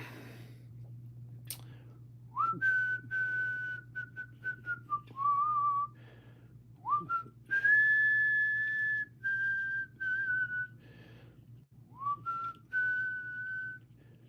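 A person whistles a slow, wavering tune beside a campfire in several separate phrases with pauses between them, close and clear over a low steady hum.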